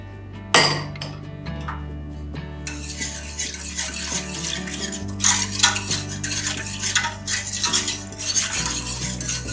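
A spoon clinks against a metal pot, then stirs cooked macaroni through a seasoned milk mixture with continuous wet, squelching scrapes and occasional clinks, up close and without talk.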